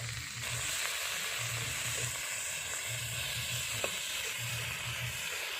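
Onion paste and chopped green chilli sizzling in a pan for egg curry, a steady soft frying hiss with occasional faint stirring clinks and a low rhythmic hum underneath.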